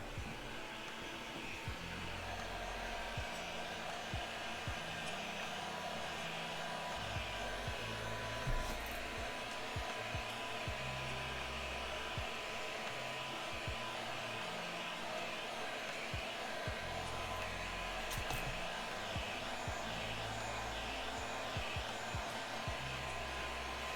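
Hair dryer blowing on a freshly finished leather axe sheath, a loud, close, continuous whooshing roar with steady motor hum that holds evenly throughout.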